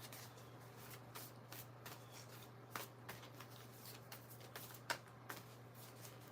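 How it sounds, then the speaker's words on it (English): A deck of cards is shuffled for a card reading, giving soft, close riffling flutters and taps in an irregular run with a faint steady hum underneath and no talk. "as I'm shuffling the cards"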